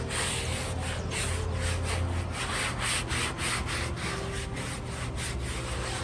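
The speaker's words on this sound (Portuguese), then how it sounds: "vamos esfregar agora para soltar essa sujeira" Car seat upholstery being scrubbed after foam cleaner is applied, with a steady, close brushing and rubbing sound in repeated rhythmic strokes and no talking.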